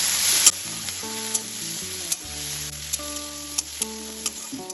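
Grated onion and ginger fry in oil, giving a steady, soft sizzle with occasional stirring taps, under background music.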